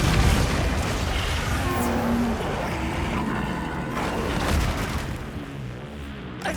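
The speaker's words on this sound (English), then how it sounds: "Missiles inbound!" Incoming missiles explode in Monster Hunter Wilds as a loud, sustained wall of booms and rumbling blasts that rolls on for several seconds and tapers slightly toward the end.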